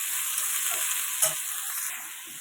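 Mixed vegetables for chow mein frying lightly in a pan give a steady, close sizzle throughout, with a few soft stirring scrapes and no talking.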